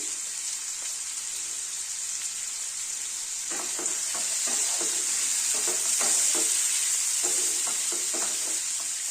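Diced onions fry in a pan for a winter vegetable chicken soup, a steady hiss with bursts of crackling and rhythmic stirring scrapes that grow louder midway.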